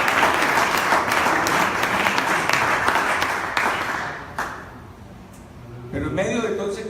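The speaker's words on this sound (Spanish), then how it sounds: "Denle un aplauso al Señor" Congregation applause in a Pentecostal church service: loud, dense clapping from many people for several seconds, fading toward the end before a voice speaks.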